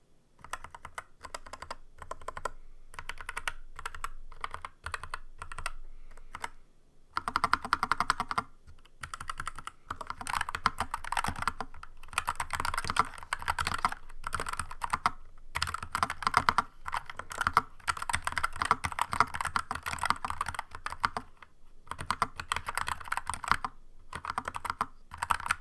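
Continuous close-up typing on a NuPhy Air60 V2 keyboard with low-profile Red 2.0 switches, soft muted keystrokes in quick irregular bursts with a few short pauses.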